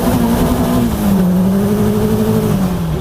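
A Caterham 360R engine, the S5-chassis version, accelerates hard and steadily, its loud continuous drone rising and sagging slightly in pitch as the revs climb, close up with no talk over it.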